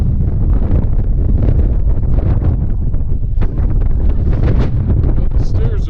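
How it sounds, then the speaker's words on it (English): Hurricane-force wind batters the microphone at Meteor Crater, a loud, continuous roaring buffet with gusting surges; a voice is buried and barely audible beneath it. "you can't hear me speaking in the wind"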